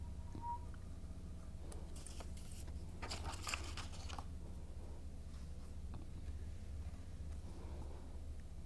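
Scissors trimming paper for a mixed media art journal page, making a short run of crisp snipping and crunching cuts in the middle, otherwise a quiet room with a steady low hum.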